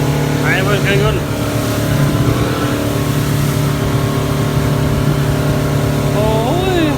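A motorboat engine drones loudly and steadily close by on a trip out to an island, a constant mid-pitched roar with people talking over it in snatches.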